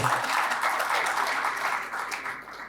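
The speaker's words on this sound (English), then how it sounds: "Once again, a round of applause, please" Audience at an agribusiness breakfast summit gives a round of applause, an even, moderately distant patter of many hands that holds steady before tapering slightly at the end.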